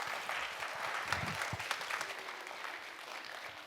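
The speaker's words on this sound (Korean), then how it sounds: "박수로 맞이해 주십시오." An audience at a university music department freshman orientation claps steadily to welcome a staff member to the stage, a dense, even wash of applause throughout with no voices.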